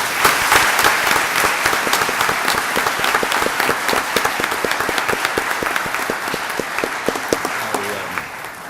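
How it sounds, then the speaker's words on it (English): Sustained audience applause fills a school board meeting room for the full stretch, dense and steady with individual sharp claps standing out, and faint voices mixed in beneath. "give them a round of applause"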